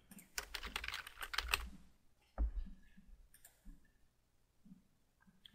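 Rapid, dense keystrokes on a computer keyboard while entering words into a domain suggestion tool, a loud burst of typing followed by a few sparse clicks and quieter taps near the end.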